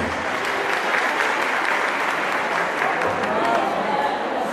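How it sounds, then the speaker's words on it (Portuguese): Sustained applause from a large audience at a teachers' pedagogical conference, dense and even clapping at a steady level throughout. "Uma salva de palmas, senhoras e senhores."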